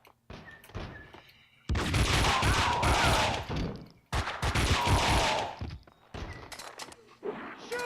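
Dual Uzi gunfire in the video game Max Payne 2, two dense, loud bursts of rapid shots with brief pauses between, mixed with thuds and game effects.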